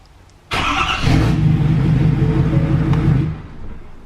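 A rebuilt 2017 Ford F350 diesel pickup running a low-smoke tune cranks with a sharp burst, then catches and settles into a loud, throbbing idle rumble that holds for a few seconds before dropping off.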